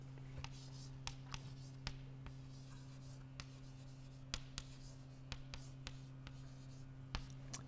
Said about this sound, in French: je l'écris